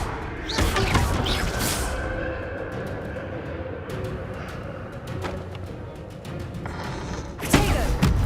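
Hogwarts Legacy combat plays out with thuds, crashes and impacts from the fiery Confringo spell, steady clatter throughout, with a sharper blast burst near the end.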